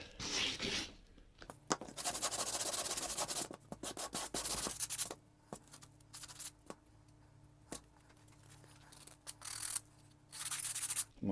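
Timber is sanded by hand in close, scratchy bursts of back-and-forth strokes, separated by short pauses. The strokes are quiet and near, with no talking.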